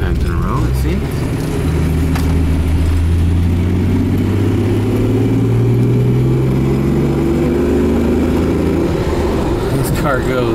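A Jaguar Mark X 420G saloon with a 4.2 straight-six engine accelerates hard, its loud, close engine note rising steadily in pitch through the gears, recorded from inside the car.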